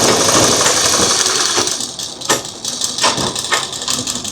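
A sewing machine stitches a plain seam with a half-inch margin, a steady close-up mechanical whirr with a few sharper clunks as the fabric feeds through.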